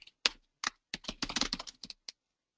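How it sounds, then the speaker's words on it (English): Quick bursts of keystrokes on a computer keyboard, clicking in uneven clusters with brief pauses, close and clear with no talking. "I'm just typing in city limousines."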